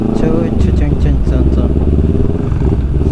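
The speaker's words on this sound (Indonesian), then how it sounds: "Dengan motor merah kita berdua saja" A red motorcycle rides through the night on roads wet after a day of heavy rain, its mid-pitched engine droning steadily and loudly up close while someone talks over it.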